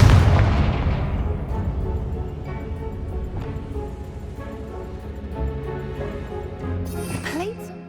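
Confringo fire-spell blast in the Hogwarts Legacy video game, a loud booming explosion at the start that rumbles and fades out over several seconds under continuing game sounds.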